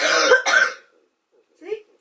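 Two harsh coughs in quick succession, close and loud, followed by a softer throat-clearing rasp after a brief pause.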